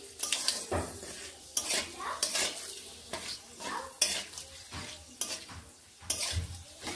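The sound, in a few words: panch phoron spices being stirred and fried in pan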